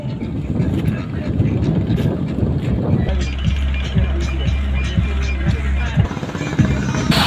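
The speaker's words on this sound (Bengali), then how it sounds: "মূলত ফেরিটি স্টার্ট দিয়ে দিয়েছে, এখন ছেড়ে দিবে" A river ferry starting its engine and pulling away from the ferry ghat at Dikrir Char, Narayanganj: a steady low engine drone sets in partway through beneath constant wind buffeting on the microphone.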